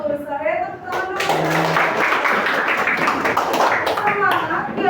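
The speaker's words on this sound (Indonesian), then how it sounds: "Selesai, tepuk tangan dulu." A group of students claps in a school classroom, dense hand claps running for several seconds after brief speech, with voices heard at the start and end.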